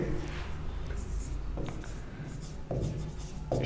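Marker or chalk strokes on a board squeak and scratch in short bursts near at hand while a teacher works through a long wall–short wall estimation, with room noise underneath.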